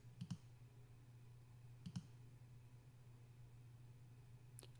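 Computer mouse buttons click faintly on a left arrow in medical billing software. There are two quick double clicks about a second and a half apart, then a tiny tick near the end, over a steady low hum with no talking.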